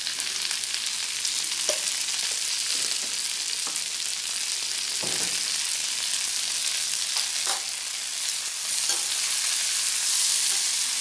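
Ivy gourd (kundru) with achari pickle spices sizzles steadily in a hot pan, with scattered scrapes and knocks of a spoon stirring it throughout; close and continuous, with no voices.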